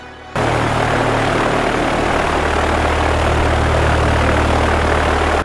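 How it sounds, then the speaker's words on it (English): Biplane engines roar in the Skygunner game, a loud, continuous propeller drone that kicks in abruptly after a brief quiet start and holds steady to the end, with no speech. "I mean that we have enemy plane behind us."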